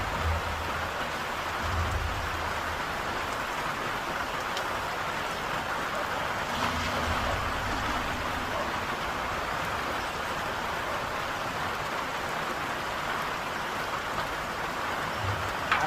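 Heavy rain pours steadily on a chicken farm in St Mary, a dense, even hiss of drops drumming on surfaces that lasts throughout, with faint low rumbles underneath.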